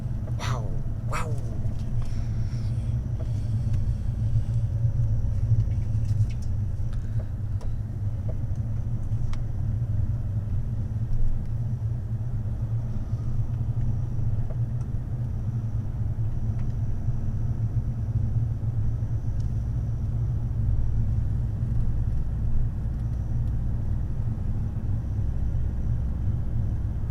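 A car engine drones steadily in second gear at slow speed on the Transalpina mountain road in Romania, with a continuous low rumble and faint road noise throughout.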